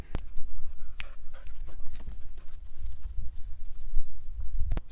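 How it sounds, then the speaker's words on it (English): A cattle dog named Cowboy panting close by, quick steady breaths with a few sharp ticks and thumps over a low background rumble. "This is Cowboy, the cattle dog."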